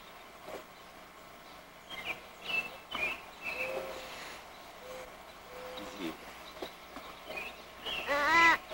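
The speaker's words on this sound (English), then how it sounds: "I hear some birds. Birds are singing for us." Birds sing outdoors on grass in short, scattered chirps, fairly faint at first and then a brighter warbling trill near the end, all over a soft open-air background.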